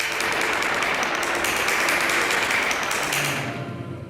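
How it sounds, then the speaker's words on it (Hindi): An audience claps in a sustained, dense burst of applause at the opening of a horror-thriller TV show, holding steady before tapering slightly at the end. "तालियां"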